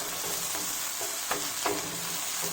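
Onions frying in a pan for okra sabzi, lightly browning: a steady broadband sizzle with a few soft stirring scrapes, close and alone without talk.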